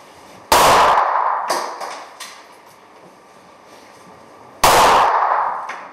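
Pistol shots ring out at a police shooting tournament on an indoor range, two sharp loud cracks several seconds apart with a long echoing decay, plus a few fainter knocks between them.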